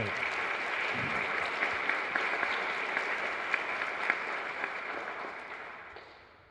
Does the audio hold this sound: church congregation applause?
yes